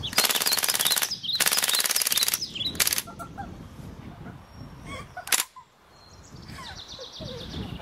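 A Cybergun UZI BB gun fires full auto in two long, loud, rapid bursts close by, followed by a short burst and scattered clicks and rattles.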